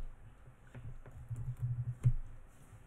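Someone types on a computer keyboard, a quick run of soft clicking keystrokes close by, faint and irregular, with no talking.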